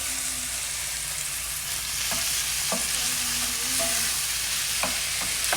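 Tomato and spices simmer down in a pan on medium-high heat with a continuous soft sizzle, and a spoon scrapes and taps the pan several times.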